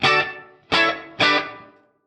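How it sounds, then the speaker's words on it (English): Electric guitar through a medium plate reverb with delay switched off, three bright strummed chords each ringing out and decaying into a smooth reverb tail, played alone. "A medium plate reverb rounds out our time-based effects here."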